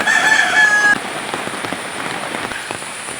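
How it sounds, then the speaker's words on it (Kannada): Ordinary chickens at a nature park in the rain, a rooster crowing once clearly at the start before fading into steady rainfall patter with faint fowl sounds. "ಇದು ಕೋಳಿ ಅನ್ಸುತ್ತೆ ಮಾಮೂಲಿ ಕೋಳಿಗಳಿವು"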